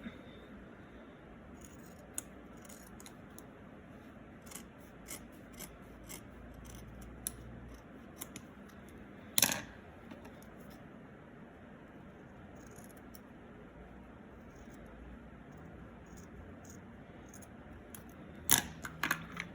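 Scissors cut a straight line across the flattened bottom of a craft gnome hat, a quiet, close, scattered series of small snips and rubbing sounds with two louder sharp snaps standing out, no talking.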